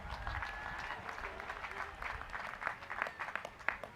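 A commencement ceremony crowd applauds a university concert choir, a broad, fairly distant wash of clapping with a few sharper individual claps and light crowd noise.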